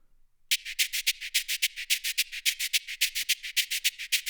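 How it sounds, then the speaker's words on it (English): A bright, crisp shaker loop, rhythmic rattling strokes repeating steadily with no low end, playing alone after a brief silent start. "that sounds more like a shaker"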